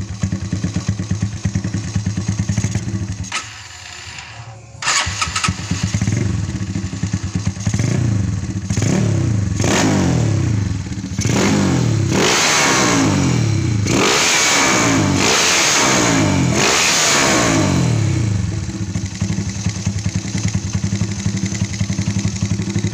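A motorcycle engine fitted with a modified PWK33 powerjet carburetor revs hard and repeatedly, climbing and dropping in pitch over a steady loud idle, close by with no talking.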